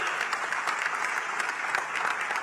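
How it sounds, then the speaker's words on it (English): An audience at a diaspora cultural gathering gives a round of applause, continuous crowded clapping at an even level for a couple of seconds. "I think we must give a round of applause for him."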